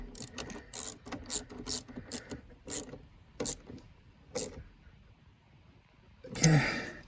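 A ratchet tightens the battery bracket bolt on a Dodge Durango, giving a series of close, quick clicking strokes in an uneven rhythm, ending with a louder clatter of metal.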